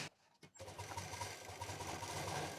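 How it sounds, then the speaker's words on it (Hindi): Sewing machine stitching a rubber sheet onto a bag, starting after a brief pause into a quiet, steady rapid whirring chatter that continues to the end. "अब इस पर हम मशीन चला देंगे।"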